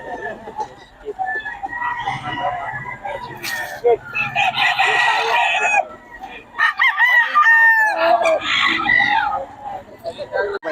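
A Gilmore Hatch gamefowl rooster crows repeatedly and clucks at a busy poultry market in Bocaue, loud and close, with other birds and people talking in the background.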